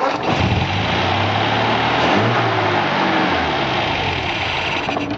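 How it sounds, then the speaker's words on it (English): Classic MG engine turning over on its starter motor after static ignition timing, then catching and running with a steady, loud mid-range rumble close by, with no talk throughout. "we're going to hit the starter motor and see if our timing was successful"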